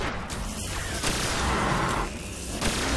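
Shock plasma rifle fire in a shooter video game, a sequence of loud, crackling energy bursts with booming impacts spaced roughly every second, close and dense.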